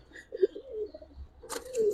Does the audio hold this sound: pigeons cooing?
yes